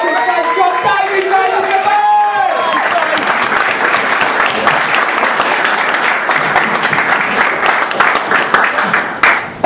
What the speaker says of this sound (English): Make a big round of applause.